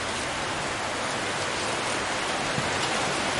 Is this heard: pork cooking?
no